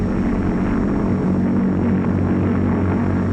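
A Lockheed propeller airplane flies overhead, its engine drone a loud, continuous roar that holds steady throughout.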